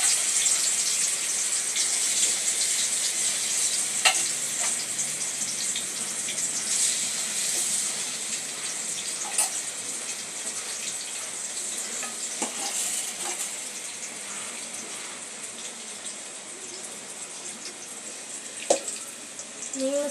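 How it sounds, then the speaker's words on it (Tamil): Chicken pieces frying in hot oil for a Sunday meal, giving a dense, continuous sizzle with occasional sharp pops and crackles. The sound stays close and even throughout, with no talking. "இன்னைக்கு சண்டே சிக்கன் பொரிக்க போகிறேன் பாருங்க"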